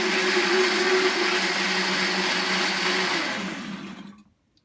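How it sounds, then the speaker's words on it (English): A blender whirs steadily at high speed, chopping parsley with liquid for scalloped potatoes. The loud motor drone holds for about four seconds, then winds down to silence, close up with no talking. "So I'm going to blend this and we'll be back."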